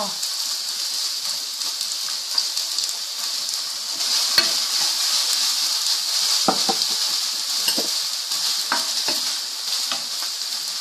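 Vegan pad thai is stir-fried in a hot pan, with a continuous bright sizzle under repeated scraping and clacking strokes of a spatula, and a voice speaking faintly at moments.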